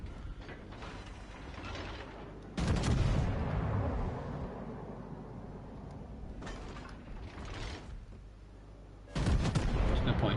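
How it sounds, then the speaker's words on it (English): Heavy battleship guns of the Hyuga boom in World of Warships, two loud broadband salvos with rumbling tails and a quieter burst between, over a steady low mechanical hum. "The gun sound is really good as well."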